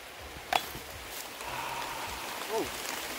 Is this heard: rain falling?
yes